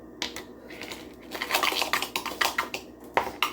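A dry spice rub for baby back ribs being stirred in a bowl, with close, quick clinks, taps and scrapes of a utensil against the bowl in an uneven rhythm.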